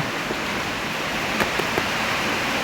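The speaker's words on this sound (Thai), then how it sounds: "เสียงฝนซาซาอยู่เลยค่ะทั้งฝนทั้งลมค่ะ" Steady rain hisses on the surface with wind, a dense broadband wash that never lets up, with a few faint drop taps standing out briefly near the middle.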